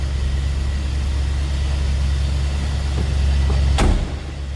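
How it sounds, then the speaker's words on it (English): The V8 engine of a 1974 Ford Ranchero GT idles with a steady hum, then a single solid car door slam lands near the end before the rumble drops lower. "Door closes nicely."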